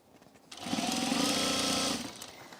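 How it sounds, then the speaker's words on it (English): A sewing machine stitches along a shirt collar stand from the center notch, a steady fast whirring run of about one and a half seconds that starts and stops abruptly, close and fairly loud. "I am sewing only from the center notch right here along the collar stand at the top"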